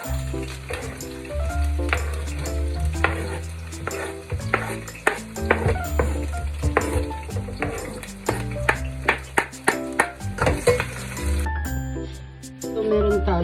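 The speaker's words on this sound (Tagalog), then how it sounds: "Okay, gisa na natin." Onion and garlic sauté in a hot pan for chicken tamales, a steady loud sizzle with clinks and scrapes of a utensil against the pan and a voice talking over it.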